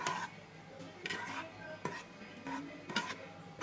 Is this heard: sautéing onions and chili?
yes